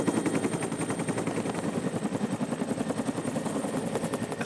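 A helicopter flies low over a ship on an ice expedition, its rotor beating in a fast, steady chop that stays loud and near throughout.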